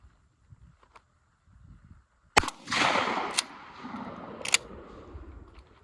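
A single sharp 20 gauge shotgun blast cracks loudly outdoors, followed by a broad rushing echo that fades over a few seconds, with a faint click beforehand.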